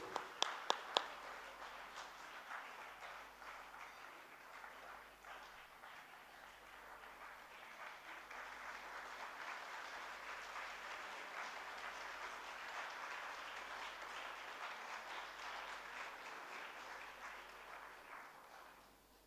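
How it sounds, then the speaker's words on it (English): Sustained audience applause at a Civil 20 India 2023 education summit session, filling a large hall; a few sharp opening claps swell into steady, even clapping that holds for the whole stretch before tapering off at the end. "Let us give a big round of applause for this laudable initiative."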